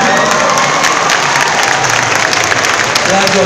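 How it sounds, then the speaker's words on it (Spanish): Comic convention crowd applauding and cheering loudly, dense clapping mixed with shouts and whoops that stays steady throughout. "¡Un aplauso aquí!"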